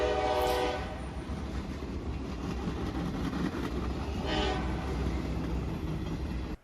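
A train rumbles past a depot in Alaska steadily at moderate distance, with a brief horn blast at the start and a continuous low rolling roar throughout.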